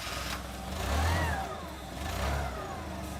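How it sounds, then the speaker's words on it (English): A warehouse forklift engine turns over and settles into a steady idle, with two swelling revs rising over the low, continuous engine rumble, heard nearby with no talking. "I'm now going to start the machine"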